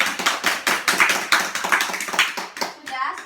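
Rhythmic hand clapping in a classroom during a teaching session, a quick run of sharp claps in a patterned beat with children's voices mixed in close by.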